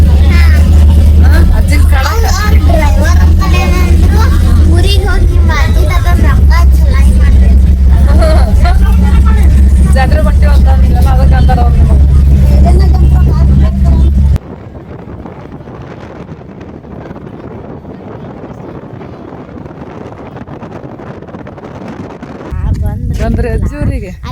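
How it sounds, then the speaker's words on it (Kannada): A loud, steady roar of a bus in motion on a trip to a village fair, with heavy wind buffeting and chatter inside the cabin, easing to a quieter rumble partway through. "ಫೋನು ಕೇಳಿಸಲ್ಲದು ಬಸ್ಸಿಂದ ಸಪ್ಪದವಾಗ"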